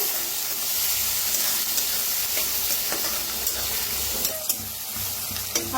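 Onion, tomato and coriander roast in a hot pan with a continuous close sizzle, broken by scattered spatula scrapes and stirring clicks, and no talking.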